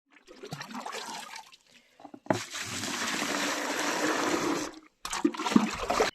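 Water poured from a bucket for buffaloes and bullocks in a hillside cowshed in cold weather, heard as a sustained splashing gush after brief earlier trickles, ending abruptly and followed by a short second burst of splashing.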